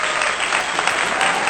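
Steady, dense applause from a crowd, loud and continuous throughout without any pauses.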